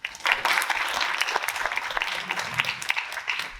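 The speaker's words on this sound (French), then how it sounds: "Vous êtes applaudis avant même d'avoir commencé à parler" Warm, steady applause from a conference audience greeting the panelists of a round table, dense clapping that holds at an even level throughout with no speech.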